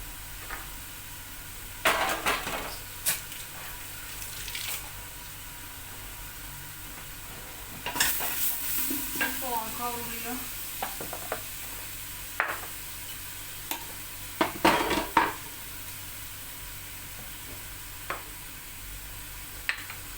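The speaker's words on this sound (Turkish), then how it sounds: "Bunu güzelce kavuracağım." Grated tomatoes and peppers sautéing in a pan, a soft steady sizzle with occasional stirring scrapes and utensil clinks against the pan, close but fairly quiet, with no talking.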